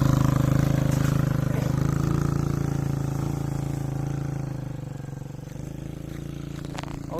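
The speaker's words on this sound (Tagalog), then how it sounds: "Si Papa muna mag-drive yung motor." A Sniper motorcycle being ridden on a rural road, its engine droning steadily with a low throbbing hum that slowly fades slightly then picks up again near the end, accompanied by faint clatter.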